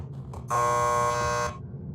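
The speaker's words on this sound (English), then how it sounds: "Just press the buzzer by the door." A door buzzer in the video game Max Payne 2 sounds one steady, loud electric buzz lasting about a second, with a quieter low background before and after it.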